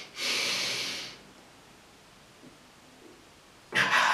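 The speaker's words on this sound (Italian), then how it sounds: "Facciamo un bel doppio respiro tendendo tutti i muscoli con volontà fino a farli vibrare." Two deep breaths during a meditation session, a long audible inhale or exhale of about a second near the start, quiet in between, then another forceful breath beginning at the end.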